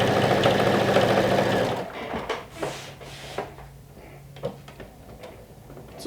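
A sewing machine stitches a side seam on a lumberjack-style garment, running as a steady loud whir for under two seconds, then stopping into quieter handling clicks and taps of the fabric.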